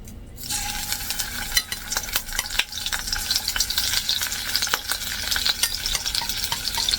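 Four shrimp fry in hot oil in a pan, a constant close crackling sizzle with scattered pops and the clink of a utensil stirring, no voices.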